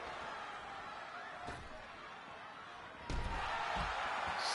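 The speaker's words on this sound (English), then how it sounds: "Slams him off the apron." A wrestler is slammed off the ring apron in the WWE 2K23 video game, a sharp impact at about 1.5 seconds and a louder thud near 3 seconds, over steady arena crowd noise.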